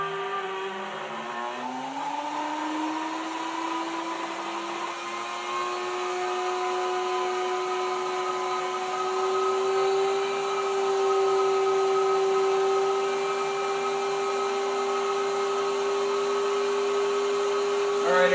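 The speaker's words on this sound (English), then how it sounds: "Start the vacuum cleaner." Vacuum cleaner starting up as part of a homemade woodgas wet scrubber rig, a steady loud motor whine rising in pitch over the first two seconds, then holding a constant drone.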